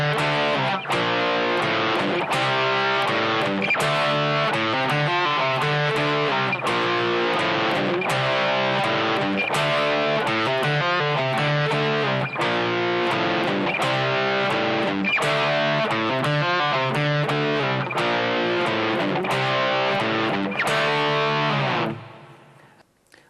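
Distorted electric guitar cycling a song's intro riff four times, a dense, loud, continuous chugging figure with a chorus-like shimmer, ending with a fade of ringing notes.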